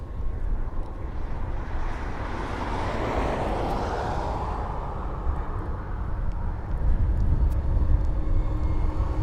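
A DHL cargo aircraft being towed along an airport runway gives off a steady low rumble and broad engine-like drone at moderate distance, slowly swelling and fading with no talk over it.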